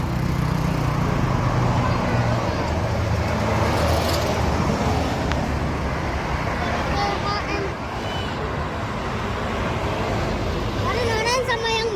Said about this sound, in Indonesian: Dua medium bus.